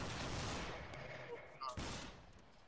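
A ragged musket volley in the Battlegrounds 3 video game sounds as a dense, distant crackle that slowly decays, followed by a second sharp report and its rumbling tail, with faint voices in between.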